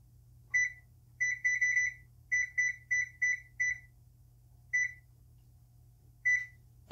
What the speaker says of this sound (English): we're going to begin by preheating our oven to 400 degrees Fahrenheit